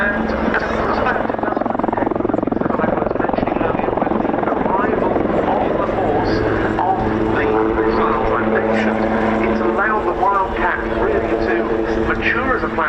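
A military helicopter flies at the RAF Cosford air show, its rotor and engine roar loud and continuous throughout, with a commentator talking over it.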